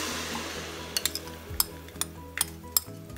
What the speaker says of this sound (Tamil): இப்போ இது வதங்கினதுக்கப்புறம் நம்ம இதை மிக்ஸ் பண்ணி வச்சுருக்க இந்த மோர் சேர்த்துடலாம்